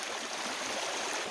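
A small mountain stream on a long-distance hiking trail rushes steadily near the listener, a dense continuous broadband wash of flowing water with no voices.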